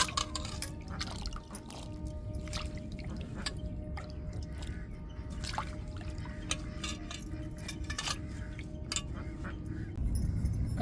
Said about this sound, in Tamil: நல்லா அலசிட்டு இன்னொரு தண்ணியில் போட்டுக்கிடுவோங்க